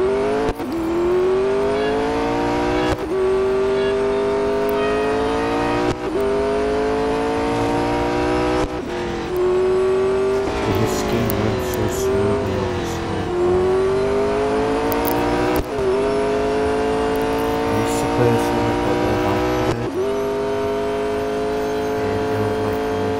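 Race car engine in the mobile game Real Racing 3 during a 720 Degrees event, a loud continuous rev with rising pitch sweeps that drop back at each gear shift, repeating roughly every three seconds with no talk over it.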